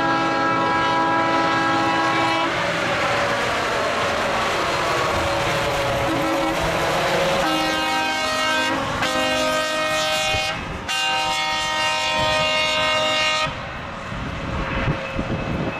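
Union Pacific maintenance-of-way machines, a ballast regulator followed by a tamper, roll past on the track with loud droning engines, horn-like tonal blasts and rumbling wheel noise, close and sustained.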